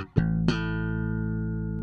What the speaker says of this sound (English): If I put my compressor on, and I'm gonna set this up to quite an extreme sound,